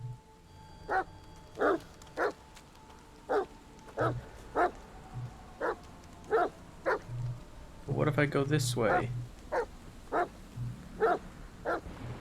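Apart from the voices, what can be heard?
dog barking in The Medium video game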